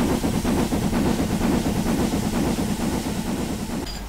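A steam locomotive on a heritage railway line runs steadily throughout, a continuous near rumble with rhythmic chuffing and wheel noise on the rails, thinning out abruptly near the end.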